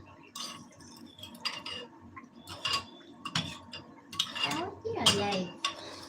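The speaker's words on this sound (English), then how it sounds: "In the meantime, let me give this a stir." A mixture of sugar and yeast being stirred in a bowl while making beignets, with a spoon clinking and scraping against the sides in uneven bursts, fairly close, interspersed with light kitchen clatter and no voices.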